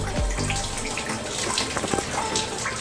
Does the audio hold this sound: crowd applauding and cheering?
no